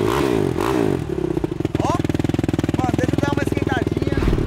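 A quad bike engine warming up idles with a steady, uneven pulsing rumble that sputters as it misfires, loud and close, while a person talks over it.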